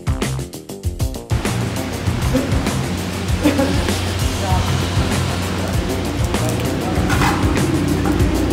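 Heavy rain pours steadily around a parked 2023 Tata Safari, a dense continuous hiss and patter drumming on and near the car, loud and unbroken throughout, with no voices over it.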